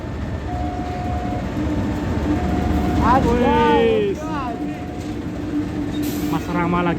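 A Supas locomotive shunting at an Indonesian station: steady rumbling rail noise with metallic wheel squeals and clanks, plus a distant tone, while people talk nearby.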